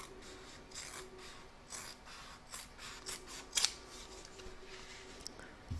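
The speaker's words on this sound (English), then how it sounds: "we're going to cut these pieces out. So I've got my fabric scissors" Fabric scissors snip through fabric pieces for an in-the-hoop dog pouch, making soft, repeated close-up cuts with faint rasping between them over a quiet room background.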